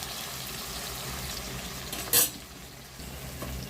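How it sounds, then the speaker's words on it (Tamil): Small eggplants sauté under a lid in a pan for a Tamil brinjal kuzhambu, giving a steady soft sizzle throughout. One brief metallic clink of a lid or utensil is heard near the middle, and there is no talk. "அப்படியே மூடி போட்டு அப்படியே மூடிடலாங்க கொஞ்சம் நேரம் அப்படியே வதங்கி வரட்டும் கத்திரிக்காயிலும்"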